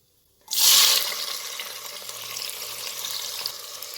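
Sliced onion hits hot oil in a pan for mushroom biryani, bursting into a loud, sudden sizzle that settles into a steady, bright frying hiss.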